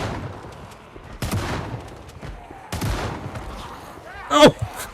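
Gunshots in Project Zomboid, a few sharp, loud reports spaced a second or so apart, with a brighter burst of sound near the end over quiet background noise.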